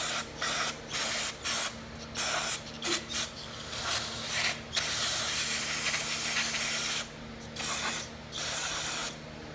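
Carburetor cleaner sprayed in repeated short bursts onto carburetor parts from a neglected Troy-Bilt Tough Cut 210 mower, each hiss loud and close with brief gaps and a faint ratcheting clatter between.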